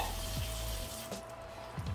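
Water poured from a measuring cup into a hot pan of pork steaks with onions and mushrooms, a close gurgling splash that settles into soft sizzling, with no talking.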